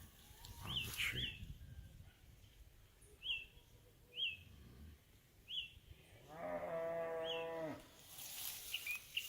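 A cow on a rural Jamaican hillside in Port Antonio lets out a single long, fairly loud moo, while faint bird chirps come and go around it.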